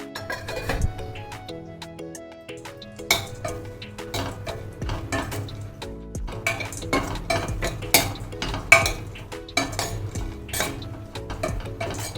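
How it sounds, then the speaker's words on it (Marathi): Metal utensils clink and scrape against a pan in a steady rhythm of stirring as dry fruits roast in ghee, with faint background noise and no talking. "कढईमध्ये थोडं तूप घालून आपल्याला सुकामेवा आपला भाजून घ्यायचा आहे"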